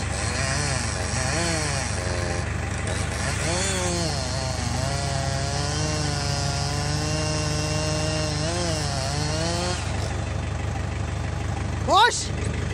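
A loud tractor engine roars and labors with shifting pitch, revving up and down continuously as it pushes against the brakes, with voices talking over it and a brief sharp whine near the end.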